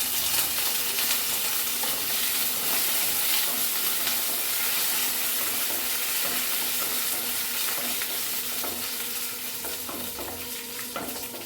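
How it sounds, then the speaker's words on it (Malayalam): Dried red chillies and curry leaves fry with browned onions for a Kerala masala dosa filling, making a dense, steady, loud sizzle with constant crackling up close. "അതിലേക്ക് നമുക്ക് വറ്റൽമുളകും കറിവേപ്പിലയും കൂടി ഇട്ട് കൊടുക്കാം."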